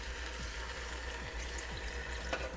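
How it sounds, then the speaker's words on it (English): Water poured into a pot of chicken curry with butternut squash, a steady, close splashing and trickling stream that runs throughout. "I'm going to add a little bit of water to my pot here."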